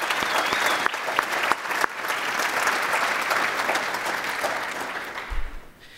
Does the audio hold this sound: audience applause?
yes